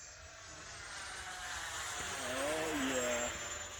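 An 80mm electric ducted fan model jet running below half throttle gives a steady, loud whine with a rising tonal sweep, heard outdoors alongside background voices.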